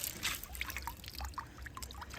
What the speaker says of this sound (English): This is the water we're trying to get out of there.